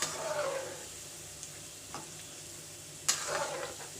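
Shakarpara, a crispy sweet Indian snack, sizzles gently in oil on low flame, a soft steady frying hiss with a few brief stirring scrapes and clicks, fairly quiet and close with no talk.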